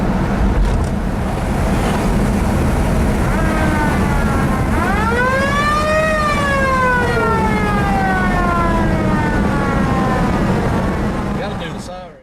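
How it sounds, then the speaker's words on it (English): A car siren wails in Mt Airy, North Carolina, its rising and falling tone sweeping loudly over a constant rumble of road or wind noise, peaking midway and then fading out. "Gotta do the siren."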